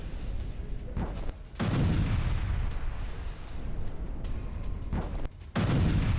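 Heavy booms and bursts of gunfire rumble loudly, with two sharp blasts standing out against a continuous low roar of battle.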